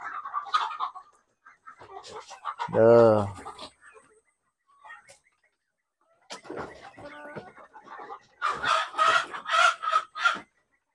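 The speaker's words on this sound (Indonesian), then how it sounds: "ayam petelur kalau nggak salah" Laying hens in a backyard coop, one loud crowing call at the center set between short clucks and bursts of speech from a person nearby, with quiet gaps in between.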